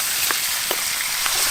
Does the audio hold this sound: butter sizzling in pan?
yes